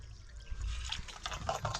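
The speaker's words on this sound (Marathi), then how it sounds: "आपण गरम पाणी काढून ठेवू बाजूला" Hot water is poured off and set aside while making wheat kurdai; a soft, close trickle and splash runs through the clip, fairly quiet, with no speech.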